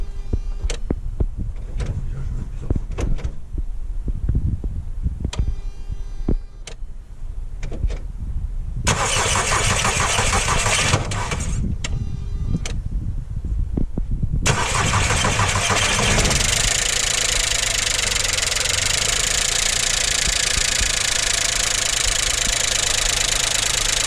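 Rebuilt 1.2 litre BBM six-valve engine of a VW Polo 4 being cranked and started after reassembly, with clicks and short attempts before it catches and settles into a loud, steady idle, some mechanical clatter.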